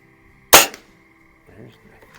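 Diana Model 45 .177 spring air rifle fired at a 25-yard range, one sharp close crack followed by a faint thud about a second later.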